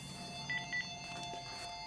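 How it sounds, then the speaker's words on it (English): A telephone in a workshop where a Harley panhead transmission is being rebuilt gives two short electronic ring pulses, faint and thin, over a quiet background with a steady hum. "I got the phone ringing again."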